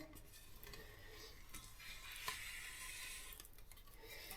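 A tool scrapes and stirs Bondo body filler inside its can with faint, steady scratchy mixing and light metallic scrapes, quiet and close with no voices.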